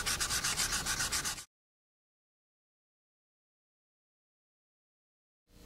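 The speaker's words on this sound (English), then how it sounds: "we can go ahead and sand it again and just keep applying it until you get the desired surface finish you want" Sandpaper rubs filler on a Saturn V model in a fast, even back-and-forth rhythm for a second and a half, then silence, with a faint return of rubbing at the very end.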